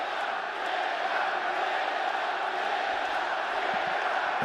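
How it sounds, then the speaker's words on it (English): A pro-Petr Yan crowd roars steadily through a UFC bout against Sean O'Malley, a dense, continuous wall of cheering and shouting that stays loud and unbroken from start to finish. "Pro-Yan crowd being heard from early as expected."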